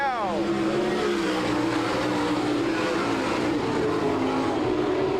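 Race cars on a dirt oval track at an NCRA All Stars race in Salina, Kansas roar past in a loud, continuous engine drone with a falling pitch sweep at the start, as a pack passes close by.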